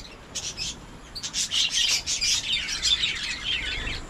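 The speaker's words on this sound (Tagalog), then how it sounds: "Yung mga ibon natin mga kaprobinsya, oh." Several small Java sparrows and other small birds chirp and tweet in quick bursts, fairly close, with scratchy rustling in the background, in the mountains during the rainy season.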